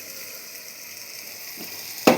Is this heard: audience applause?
no